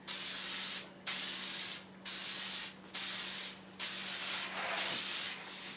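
Spray primer hisses from an aerosol can in six even bursts of about a second each, separated by short pauses, close and steady with no talking.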